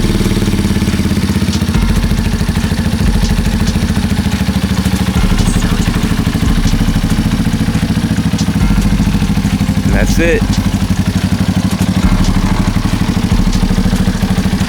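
A Yamaha Warrior 350 ATV fitted with a DG exhaust idles close by in a steady, loping thump with a metallic clatter, while someone briefly speaks over it.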